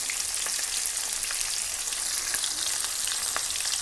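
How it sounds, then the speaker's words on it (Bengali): Pieces of fish frying in hot oil in a pan, a dense, even crackle and sizzle held close and loud throughout with faint pops, no voices. "দেখো মাছগুলো দিয়ে দিলাম তেলের ওপরে। চলো ভেজে নিই"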